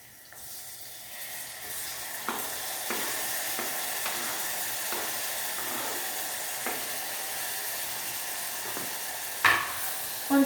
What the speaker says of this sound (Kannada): ಈಗ ನಾನು ನೆಕ್ಸ್ಟ್ ಟೊಮ್ಯಾಟೊ ಹಾಕ್ತೀನಿ. ಅದಾದಮೇಲೆ ಅದು ಚೆನ್ನಾಗಿ ಬೇಯಕ್ಕೆ ಬಿಡ್ತೀನಿ.